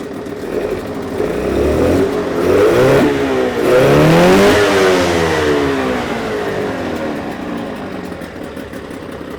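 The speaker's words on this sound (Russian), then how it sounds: "Мотор работает просто замечательно." A Suzuki DT6/DT8 outboard motor fitted with a Chinese carburetor runs close by, its engine note rising as it revs up, holding high, then settling back toward a steady idle.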